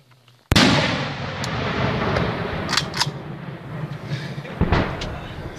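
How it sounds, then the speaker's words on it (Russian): Incoming mortar rounds and tank fire in wartime combat, a sudden loud blast followed by a long rumbling decay, then more sharp distant cracks and a second heavy impact near the end. "Мины прилетают очень хорошо. Танк работает по нам сильний."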